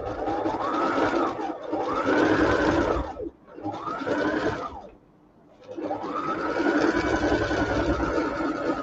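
A sewing machine runs close up in loud, steady bursts of rapid stitching, making coarse basting stitches on a chin lining. Three long runs are split by two short pauses, with no talking.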